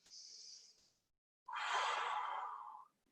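Breathing while holding a front splits stretch: a soft inhale followed after a short pause by a longer, louder exhale, close and alone.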